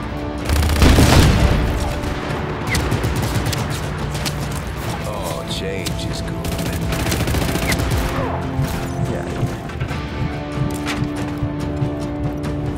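Explosions and bursts of gunfire in the action game Just Cause 3, a loud blast early on followed by continuous rumbling destruction and crackling shots, with a voice talking over parts of it.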